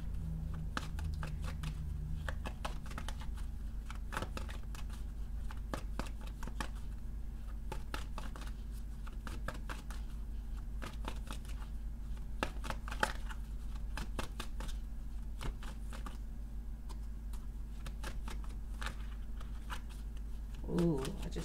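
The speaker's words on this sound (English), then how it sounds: "We'll see as I pull more cards." Tarot cards being shuffled and drawn, crisp repeated riffling and flicking close up, with a low steady background hum and a brief voice near the end.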